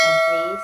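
A notification bell chime rings out clearly with a bright sustained tone that slowly fades over a fraction of a second, standing alone without talk.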